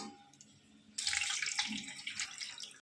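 Water poured over a small Laddu Gopal idol during its bath, a sudden steady splashing stream that starts after a quiet second and continues close up until the end.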